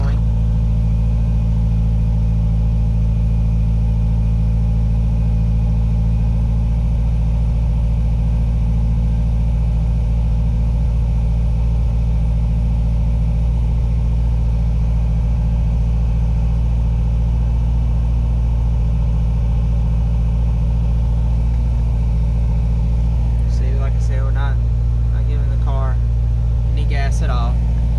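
A car idles after a cold start with no throttle, a steady low rumbling engine drone holding constant throughout, with a person talking briefly near the end.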